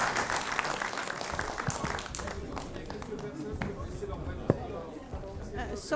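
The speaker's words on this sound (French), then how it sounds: "Applaudissons nos intervenants." Audience applause in a small auditorium at the close of a conference session, a steady broadband patter of many hands clapping, moderately loud, with a few sharper individual claps standing out near the end.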